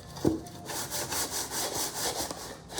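A wooden block sanded by hand, pushed sideways in a steady back-and-forth rhythm of about a dozen close, rasping strokes with one sharp knock near the start.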